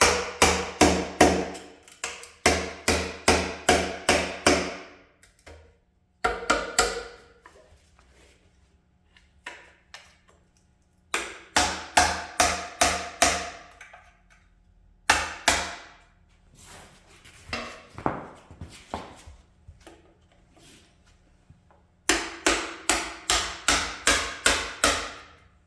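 Repeated metal-on-metal hammer strikes chip a stubborn old oil pan gasket off a Cadillac Eldorado 500 engine, coming in rapid rhythmic bursts of a dozen or so sharp blows with short quiet pauses and scattered lighter taps between, close and loud.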